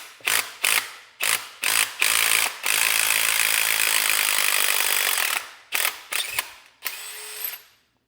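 A 3/4 ratchet drives out the lowering link bushing on a 2025 BMW S1000RR, giving a run of loud clicking bursts, then a sustained whirring drive, then more short ratcheting clicks, close and alone.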